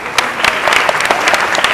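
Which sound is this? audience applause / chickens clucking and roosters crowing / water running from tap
audience applause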